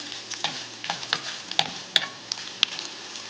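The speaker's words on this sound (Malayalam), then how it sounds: "ഇനി അരിഞ്ഞു വെച്ചിരിക്കുന്ന ചെറിയ കഷ്ണം ഇഞ്ചി ചേർത്ത് കൊടുക്കാം. ഒന്ന് വഴറ്റി കൊടുക്കാം." Chopped ginger sautéing in a pan for moringa leaf buttermilk curry, a soft sizzle broken by light, irregular spatula taps and clicks, close and moderately quiet.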